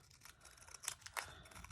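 Scissors snipping a small strip off a paper front cover piece for a mini vintage junk journal, giving a few quiet, close crisp cuts with soft rustling between them.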